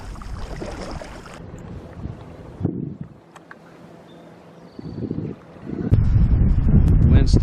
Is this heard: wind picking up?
yes